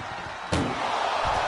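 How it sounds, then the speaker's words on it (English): In a WWE PlayStation ambulance match with Brock Lesnar, John Cena and Roman Reigns, an ambulance door slams once with a sharp, loud bang, followed by low crowd and arena ambience. "Trying to force the first door closed."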